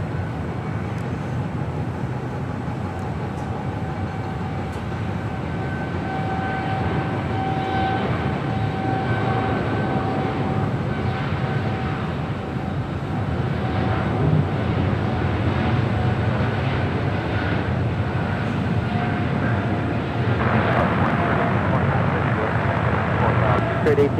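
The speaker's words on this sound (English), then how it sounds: "Next departure is Eva Air, the 777 heading to Taipei, Flight 609 already rolling down" An Eva Air Boeing 777 bound for Taipei rolls down runway 25 right at Los Angeles International Airport, a steady broad engine roar building slowly toward the end, with distant talk faintly under it.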